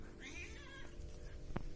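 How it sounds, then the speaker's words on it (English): Cat meowing indoors at home, a short drawn-out meow followed by a brief sharp mew near the end, close but soft, with no speech. "Oi, cat, what are you doing?"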